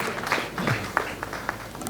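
A workshop audience at the AISS 2023 security event gives sparse, uneven clapping, with a few scattered hands striking at irregular intervals in a room rather than full applause.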